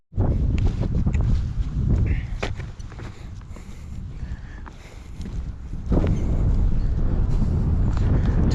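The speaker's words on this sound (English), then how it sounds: "Temps have come down, wind's gone up, and it is breezy, breezy, breezy." Breezy wind gusting across a High Sierra lake in Yosemite, a steady broadband rush with buffeting against the microphone that eases in the middle and strengthens again near the end.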